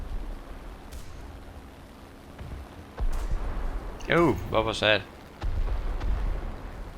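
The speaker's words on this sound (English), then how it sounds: "Let's try the cannon." Tank cannon fire from a Swedish T18B-2 in War Thunder: deep, booming shots and a heavy rumble come at intervals, with a voice briefly exclaiming between them.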